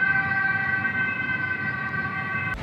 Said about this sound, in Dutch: Lekker ook zo'n sirene.